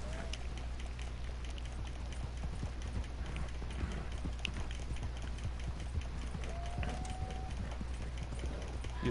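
A horse gallops in the video game Red Dead Online, its hooves beating in a quick, steady clip-clop rhythm throughout, fairly faint under low game ambience.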